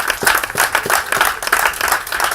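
A church congregation applauds at a Christian youth gathering, with brisk, rhythmic, fairly close hand clapping running throughout the short stretch.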